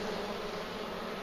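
Bees buzzing steadily in an opened beehive with drone comb, a dense continuous hum filling the space close by, with no voices.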